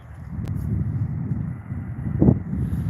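Low, rumbling wind in Ankara buffets the microphone steadily, with gusty swells and a brief sharper blast near the end.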